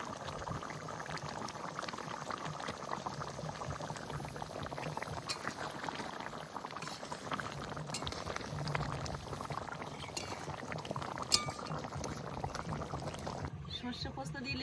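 Hilsa fish curry in mustard-poppy seed sauce simmers with raw mustard oil added, giving a steady, close bubbling and sizzling that continues throughout and cuts off near the end.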